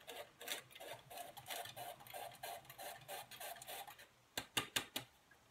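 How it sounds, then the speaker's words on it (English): Flour being sifted into a separate bowl with an old hand-cranked kitchen sifter, a soft rhythmic scratching and ticking that repeats steadily at close range, ending in a few sharper taps. "So all I'm going to do is sift this into a separate bowl."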